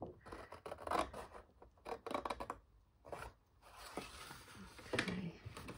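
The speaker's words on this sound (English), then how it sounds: "I'm just going to use my scissors." Scissors cut through a sheet of 12x12 craft paper in a quiet room, a run of close, soft rasping snips with short pauses between strokes.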